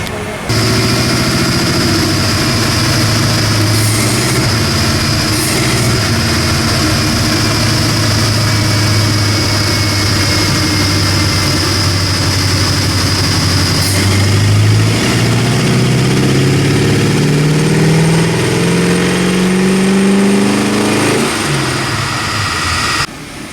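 A 304 V8 in an AMC AMX revs on a DynoJet chassis dyno during carb tuning, loud and close, holding a steady drone before pitch climbs in a long sweep and drops off near the end.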